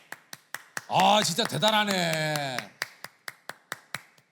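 Crisp rhythmic claps sound at a steady beat during a children's taekwondo demonstration, briefly covered by someone speaking, then continuing clearly and evenly afterward.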